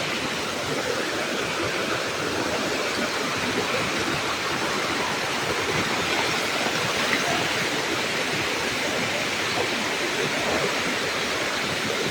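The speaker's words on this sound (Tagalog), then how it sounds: "Ang daming falls." Waterfalls by a village along a hiking trail, a steady, dense roar of rushing water filling the whole clip at an even, loud level with no other sounds standing out.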